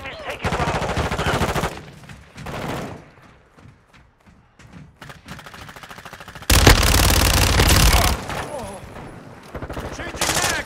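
Bursts of automatic gunfire in the video game Call of Duty: Modern Warfare II, loud rapid volleys separated by quieter gaps, with a long intense burst in the middle and game voice callouts in places.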